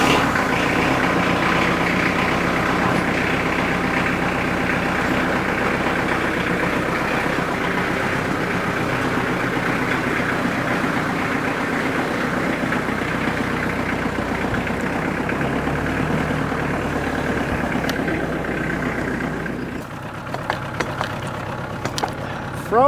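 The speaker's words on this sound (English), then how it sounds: "So I'm gonna get this tractor fired up" A tractor engine used for small-scale timber stand improvement in frozen conditions idles with a loud, close, steady low rumble, running without talk for most of the clip before its note drops near the end.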